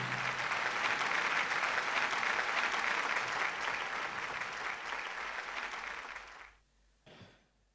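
An audience applauds at an award ceremony during an Urdu and Hindi poetry gathering in Dubai, with loud, dense, sustained clapping that drops away near the end, followed by a brief smaller burst before silence.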